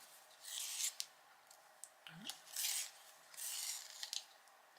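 A burnt umber colored pencil turned in a small sharpener, giving three soft, quiet bursts of rasping wood shaving with brief pauses and a faint tap between them.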